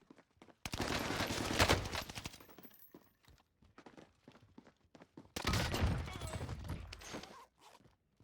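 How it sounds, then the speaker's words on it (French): Automatic gunfire in a first-person shooter video game, two dense rapid bursts of shots a few seconds apart with quieter scattered pops and footsteps between, fairly faint overall. "ça tire ici"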